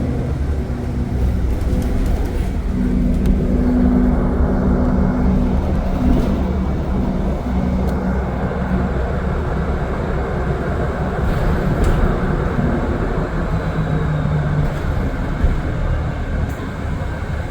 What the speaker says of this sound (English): we are on RTL bus 22106, which I think is a 2022 Nova Bus LFS hybrid. It is a hybrid bus.